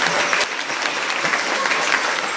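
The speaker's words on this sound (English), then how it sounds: "please applaud for each of these" An audience at a junior band festival, held in Emporia State facilities, claps in a dense, steady wash of applause that stays loud and even throughout.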